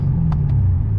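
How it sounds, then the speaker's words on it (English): Lexus RC F downshifting via paddle shifters, a steady close engine rumble with the pitch stepping lower and brief clicks of the paddles, with no speech. "It finally downshifts."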